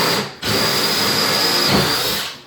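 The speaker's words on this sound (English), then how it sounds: "you could drill your hole here for the next cut" A power drill bores a hole in a kitchen countertop during installation, a loud steady whine that runs nearly unbroken for a couple of seconds, dipping briefly near the start before resuming, with no talk.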